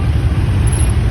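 A brief burst of road traffic, a dense close engine rumble from passing cars with no voices.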